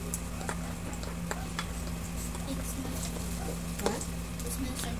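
Onion and garlic sauté in hot oil in a pan, a soft steady sizzle under a low hum, with scattered stirring clicks and one louder scrape near the end.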